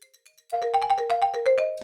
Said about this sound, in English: That's the marimba straight out of Expand again.